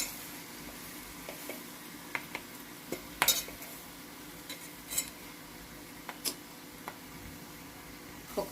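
A spoon scraping and stirring ground spice powder into bitter gourd frying in a pan, with light metallic clinks and taps over a steady soft sizzle.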